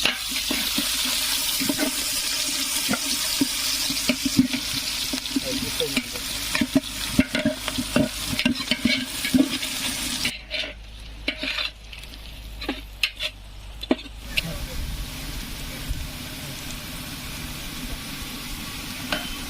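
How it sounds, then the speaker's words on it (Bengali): Sliced onions fry in a pan for a spicy village-style chicken korma, with a loud continuous sizzle and repeated scraping stirs, briefly quieter midway before the frying resumes. "পেঁয়াজ দিলাম এখন বন্ধুরা।"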